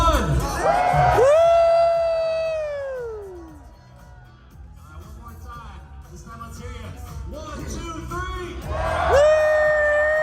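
An audience at a Dragon Ball convention panel at ECCC 2025 cheers and whoops loudly, with rising and falling shouted whoops. The noise dips midway, then swells again near the end.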